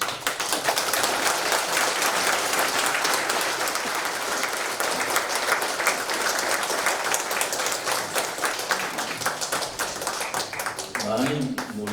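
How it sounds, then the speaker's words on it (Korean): Audience applause welcoming a pastor to the stage at a Korean Christian forum lecture, dense and steady clapping filling the room throughout, with a few voices faintly under it near the end. "우리 목사님 등단하실 때 우리 박수로 환영해 주시면"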